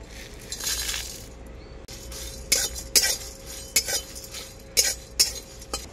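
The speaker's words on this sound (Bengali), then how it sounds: "একসাথে শুকনো কড়াই মশলাগুলো ভেজে নেব।" Whole spices (bay leaf, dried red chillies, cumin, coriander seed and radhuni) dry roasting in a kadai, with a soft steady rustle under scattered metallic scrapes and clinks of a spoon stirring, close by.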